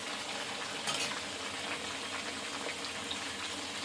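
Tomatoes sizzle steadily in a hot pan while crab curry is being cooked, a continuous close crackling hiss with no talking.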